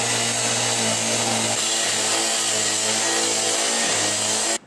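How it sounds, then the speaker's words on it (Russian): A construction angle grinder cutting into a building door during a police raid on an illegal gambling hall, a loud, steady, continuous motor whine with a slight pitch shift partway, cutting off abruptly at the end. "Чтобы попасть в помещение, в котором по оперативной информации располагался нелегальный игорный салон, сотрудникам полиции пришлось прибегнуть к помощи строительной болгарки"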